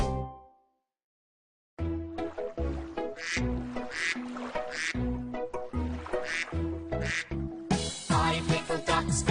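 Cartoon-like duck quacks in a children's song about ducks swimming over a pond, repeated in a bouncy rhythm over a bright tuneful backing, loud and close after a short pause.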